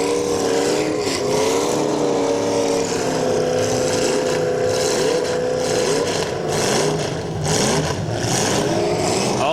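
Several demolition derby cars rev their engines loudly and continuously at a county fair track, with rising and falling engine tones overlapping throughout and no talk.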